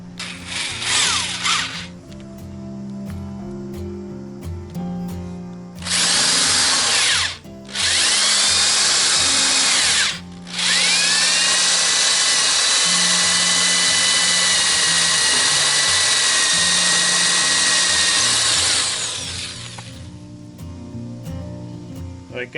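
Power drill boring holes through a Polarkraft 1460 boat hull to mount an 8 hp Honda outboard motor: loud, close whining bursts that start, stop and then run steadily for a long stretch before winding down.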